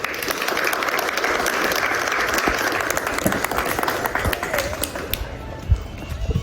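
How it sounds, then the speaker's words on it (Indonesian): A crowd at a junior high school cavalry demonstration applauds in a dense, continuous patter that thins slightly toward the end, with a few sharper claps standing out. "Tepuk tangan untuk Praga."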